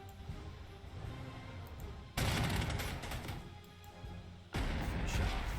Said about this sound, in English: Use my Stuka to wipe out this Charby 1